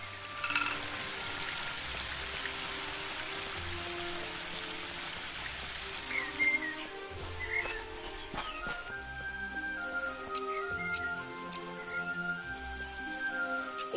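A waterfall in the video game Book of Unwritten Tales 2 gives a soft steady rushing hiss beneath layered musical tones and scattered chimes, fading midway as the music continues.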